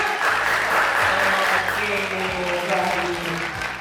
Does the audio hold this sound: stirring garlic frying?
no